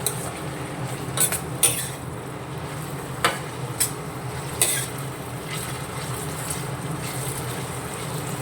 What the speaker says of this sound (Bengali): আমি এখন একটুখানি চাউ করছি।